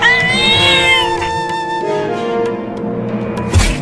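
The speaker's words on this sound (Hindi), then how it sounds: "बड़ी ही ढीठ बिल्ली है ये" A cartoon cat meows loudly in a long, wavering, strained cry that rises and falls, then gives a short final yowl, with no talk over it.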